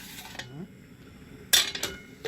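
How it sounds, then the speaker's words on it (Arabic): A sponge cake from a blender batter flipped onto a metal tray, giving a couple of sharp metallic clanks and light scraping against a quiet kitchen background. "هقلب بقى انا الكيكه هنا على الصينيه كده"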